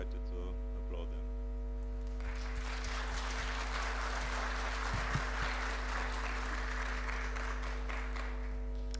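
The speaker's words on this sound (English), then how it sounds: "I invite you to applaud them" Audience applause for panel speakers at a conference begins after about two seconds and continues steadily, set against a constant loud electrical mains hum.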